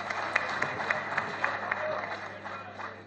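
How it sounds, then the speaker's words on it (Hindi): An audience at a state-level Youth Congress meeting claps to welcome the party president, steady scattered applause with crisp repeated hand claps at a lively rhythm, fairly close, holding for a few seconds. "अच्छा ये तालियों से स्वागत करें अपने अध्यक्ष का।"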